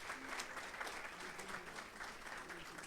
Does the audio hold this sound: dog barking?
no